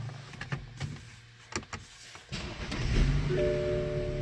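A 2015 BMW 3 Series starting up inside the cabin: a few clicks and short mechanical whirs, then the engine catches and settles into a low steady idle with a faint electronic tone, heard close with no talking.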